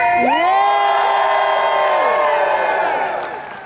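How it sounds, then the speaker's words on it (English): A crowd at a Philadelphia Soccer 2026 event cheers and whoops loudly, the roar holding steady for a few seconds before tapering off at the end. "Everybody, let's cheer."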